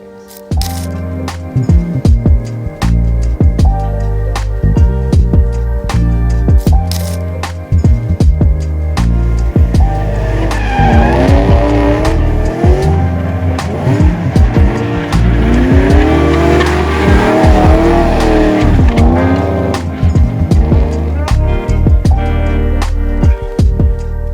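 A drift car spins donuts on a track, its engine revving hard in rising and falling sweeps while the tires squeal and skid continuously, loud and close.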